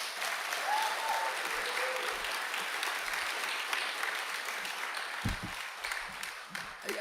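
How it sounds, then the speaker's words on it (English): Conference audience at a Human Rights are Animal Rights keynote applauding the organizers: even, sustained clapping from a crowd, fairly soft and distant, with no talk over it. "Can everybody just applaud the organizers?"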